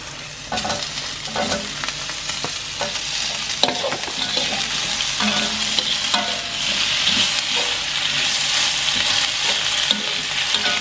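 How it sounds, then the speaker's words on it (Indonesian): Sausage slices and meatballs sautéed in a pan with browned onions, giving a continuous close sizzle broken by frequent scraping stirs of a spatula, with no voices. "kita tumis sebentar ya sosis sama baksonya"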